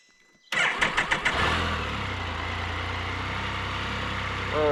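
A Can-Am Spyder F3 engine cranks with a few rapid sputters, then catches and settles into a steady, loud, rumbling idle close by.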